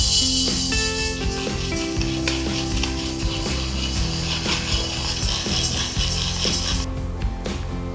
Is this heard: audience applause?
no